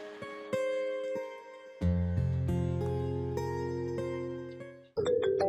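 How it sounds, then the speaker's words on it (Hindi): A phone ringtone plays a repeating melodic tune, fairly loud and close, with no voices. "अरे ये तो सपना का फोन है"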